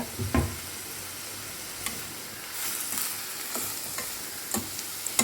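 Spring onions sautéing lightly in a pan, a faint steady sizzle broken by occasional scraping stirs and small clicks of a spoon against the pan.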